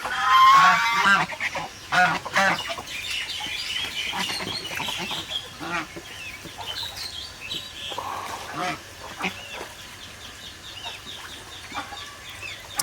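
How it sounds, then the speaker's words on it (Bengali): Domestic ducks at a small bathing spot give repeated honking quacks, loud at the start and then scattered and softer, with hens and other fowl mixed in and a person talking at times. "হাঁসগুলো এখন সবাই একসাথে নামলে জায়গা আটে না"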